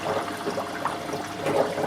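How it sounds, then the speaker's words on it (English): Water rushing down from a fish tank into its filter during filter maintenance, a steady continuous gush and trickle up close, moderately loud and alone with no talking. "the water is rushing down, coming down"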